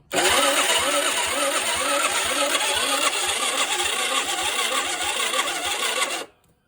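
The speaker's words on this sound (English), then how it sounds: "She doesn't start up, so it's really weird." A 2011 Peugeot Kisbee 4T scooter being cranked but failing to start, heard as a close, steady whirring starter with rapid mechanical pulsing for about six seconds, then stopping abruptly into silence.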